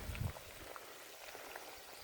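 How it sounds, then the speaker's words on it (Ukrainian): Water pours and splashes out of a container in a soft, continuous patter, faint and fairly close, with a slightly stronger gush at the very start. "Виливається вода."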